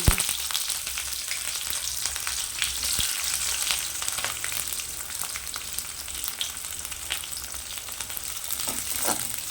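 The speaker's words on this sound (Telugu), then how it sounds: "ఉల్లిపాయలు పచ్చిమిర్చి కొంచెం ఎర్రగా వచ్చేంత వరకు వేపుకున్నాము" Chopped onions and green chillies frying with whole garam masala in a hot pan for hotel-style tomato rice, a loud continuous sizzle with crackling bursts and occasional stirring scrapes, close up and with no talking.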